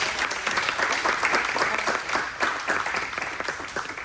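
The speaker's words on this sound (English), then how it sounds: "let's give our presenters a round of applause" An audience applauds presenters at a city commission meeting with steady, dense clapping that holds at an even level throughout, fairly close and without pause.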